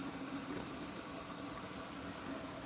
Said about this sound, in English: We're mixing our plant food and pour it in